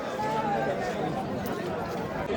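A crowd of pilgrims chatters on the Kedarnath trail, a steady dense murmur of many voices mixed together, continuous and moderately loud, with one nearby voice speaking over it.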